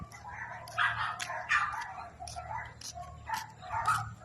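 Loose dogs barking in repeated bursts at moderate distance during an evening walk through a residential neighborhood, with a low background hum throughout.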